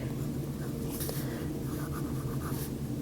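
A Sheaffer Prelude fountain pen with a wet medium nib writes on paper, a close, continuous soft scratching of strokes, with no voices.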